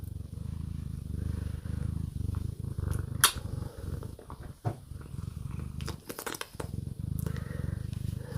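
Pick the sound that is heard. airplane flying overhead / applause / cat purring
cat purring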